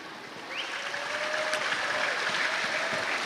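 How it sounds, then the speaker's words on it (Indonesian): Studio audience applause at a live Indonesian talk show, a steady broadband patter of many hands sustained throughout at moderate loudness with faint background voices. "karena tepuk tangan udah meriah, saya stop."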